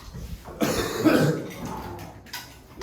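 A harsh, close cough bursts out once, followed by a rough throat-clearing rasp, then quieter breathing.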